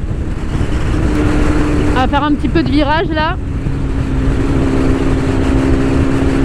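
A 2022 BMW S 1000 RR motorcycle engine in race mode drones loudly and steadily while riding, with someone speaking over it briefly near the middle.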